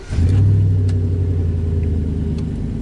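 A Chevy Silverado truck engine cranks and catches, a loud close rumble that swells within the first half second and then settles into a steady idle.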